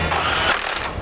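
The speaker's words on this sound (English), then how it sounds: "Now we'll take a 19mm socket and tighten them all into place." A ratchet fitted with a 19mm socket tightens nuts on a Curt trailer hitch receiver on a 2017 BMW X5, making a brief, close, loud burst of rapid mechanical clicking.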